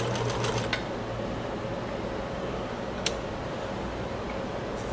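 A Necchi Supernova sewing machine runs steadily while stitching, making a fairly quiet mechanical whir with occasional light ticks and clicks.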